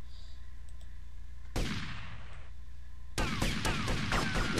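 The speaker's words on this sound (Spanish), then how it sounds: "Muy bien, vamos a disparar." Gunfire at a shooting range in the video game GTA Vice City: a sudden loud burst of shots with a ringing tail, then after a short gap a rapid stream of repeated shots, close and harsh, without talking.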